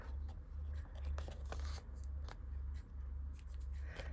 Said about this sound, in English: I think my scissors are too gummed up.